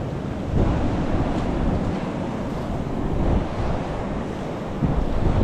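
Ocean waves roll and break against a rocky shore with crevices, a steady close wash of surf mixed with gusting wind buffeting the microphone, with no voices.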